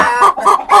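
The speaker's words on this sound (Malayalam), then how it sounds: "കോഴികളെ മിണ്ടായി എനിക്ക് ഇവിടെ വീഡിയോ എടുക്കണം" A hen clucks three times in quick succession, loud and near, each call short and throaty.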